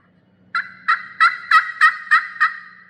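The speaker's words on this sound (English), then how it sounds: "Tom gobbles, maybe once more." Tom turkey gobbling, a run of seven quick, sharp, rattling notes, clear and fairly close against a quiet background, with no talk.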